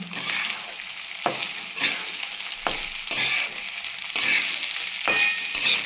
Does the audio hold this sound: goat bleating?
no